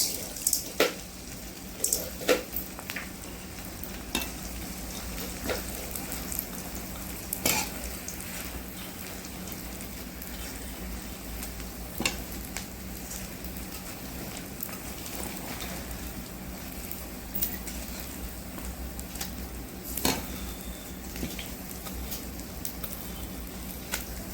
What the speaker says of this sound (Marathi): आता आपलं तूप चांगलं तापलं आहे त्याच्यामध्ये आता आपण डिंग टाकून घेऊया